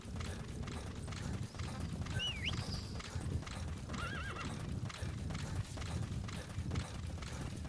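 D-Horse in Metal Gear Solid V: The Phantom Pain, with steady galloping hoofbeats clip-clopping throughout, broken twice by a short whinny over a low rumbling game soundscape.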